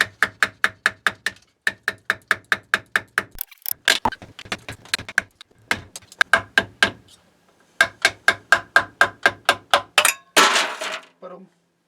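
Metal tapping on a Ferrari 430 Scuderia rear axle CV joint being knocked loose, a long run of sharp, evenly spaced ringing taps in bursts, close and loud, with brief pauses between series.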